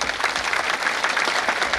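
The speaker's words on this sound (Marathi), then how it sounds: "सर्वांनी टाळ्या वाजवूया." An audience at a book release ceremony claps together in a brief, dense burst of steady applause that runs under two seconds without any speech.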